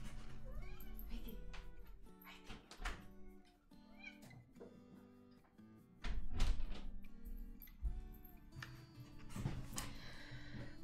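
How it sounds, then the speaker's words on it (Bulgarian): A house cat meows repeatedly at the door, clear close calls rising and falling in pitch, with a voice speaking and a door rattling in between. "Трябва да пусна котката."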